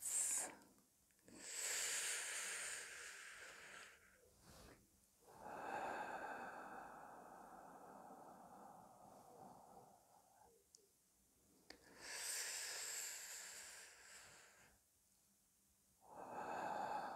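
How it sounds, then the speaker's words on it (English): Slow, deep breathing in a quiet reiki ASMR session, with long airy inhales and exhales repeating several times close to the listener. "we'll take some more deep breaths"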